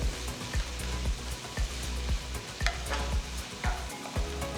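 Vegetables for an Indian-style masala pasta sautéing in a pan, a steady close sizzle with repeated scraping and stirring strokes of a utensil at an even rhythm, no voices.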